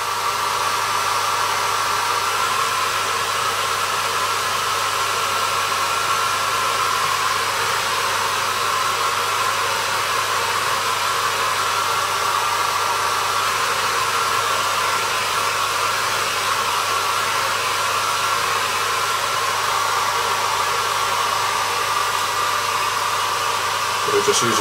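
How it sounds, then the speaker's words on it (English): A hair dryer blows steadily and loudly at close range for the whole stretch while it is used to give a model a quick blast of air; there is no talking. "just using a hairdryer here to"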